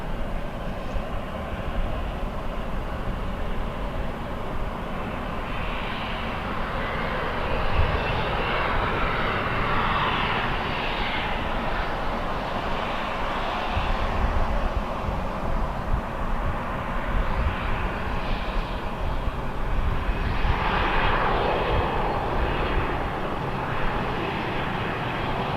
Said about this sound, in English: Bunch of little planes driving right over here